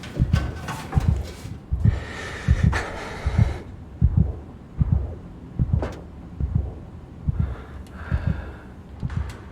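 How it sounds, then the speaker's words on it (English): A heartbeat pulses in the horror video game SOMA, a steady series of low, thudding double beats about once per second, close and prominent, with a breathy gasp partway through. "Something like hearing your heartbeat in a horror game just freaks you out."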